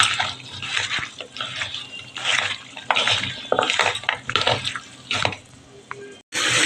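Food being mixed with spices by hand in a bowl makes close, wet squelching and soft clattering in irregular bursts, with brief pauses between strokes.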